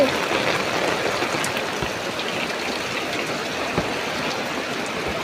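Heavy rain pours down steadily in a rural garden setting as water runs, making a dense, continuous hiss and patter with occasional nearby drips and splashes and no talk.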